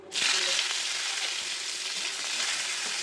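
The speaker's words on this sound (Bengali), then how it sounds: "ফোড়নটাকে একটু নাড়িয়ে চাড়িয়ে এতে আমি কুচনো পেঁয়াজ, কুচনো ক্যাপসিকাম আর টমেটো" Chopped onion, capsicum and tomato hit hot oil with whole spices and fry with a loud, steady hiss that holds evenly throughout, with a few faint stirring knocks.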